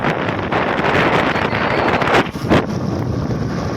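A motorbike is ridden through rain, heard as a loud, steady roar of wind buffeting the microphone with a couple of short gusts; no voices.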